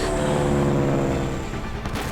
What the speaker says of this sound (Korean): A plane is crashing!